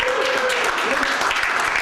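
Crowd at a comedy night claps loudly and continuously, dense applause with a faint voice and some cheering mixed in near the start.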